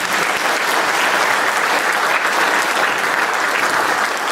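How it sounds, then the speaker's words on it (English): A crowd at a community launch event gives a round of applause. The clapping is dense, loud and steady, a continuous wash of many hands that holds for the whole stretch. "Could you please give them another round of applause?"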